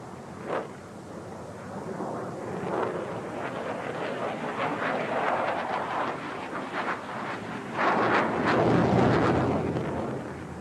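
Sukhoi Su-27 jet fighter flying at an air display, a broad roaring rumble of jet engine noise that swells and fades over several seconds, heard from a distance with wind buffeting the microphone.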